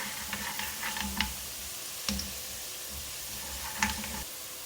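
Whole cumin seeds go into hot oil with softened onions and crackle in a soft, steady sizzle, with a few sharp pops and clinks from a pan or spoon.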